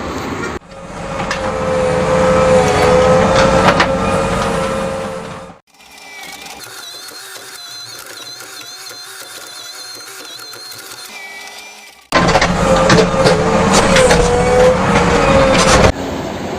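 JCB backhoe with its bucket teeth open scrapes grass off a roadside drainage slope. A loud, close engine drone with mechanical grinding drops to a quieter idle midway, then surges back.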